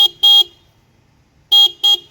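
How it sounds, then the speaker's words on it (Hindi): A loud, buzzy electric horn on an e-rickshaw with repaired wiring honks four times in two quick pairs, with a short silent gap between the pairs. "तो देखिए हॉर्न बज रहा है"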